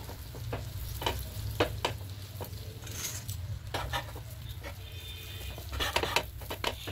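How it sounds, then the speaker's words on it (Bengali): Chicken burger patties searing lightly in butter in a pan, a soft continuous sizzle with regular clicks and scrapes of a utensil against the pan. "এভাবে হালকা করে সেঁকে নেব।"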